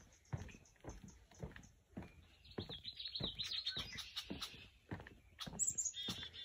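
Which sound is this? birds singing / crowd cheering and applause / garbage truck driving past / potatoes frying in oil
birds singing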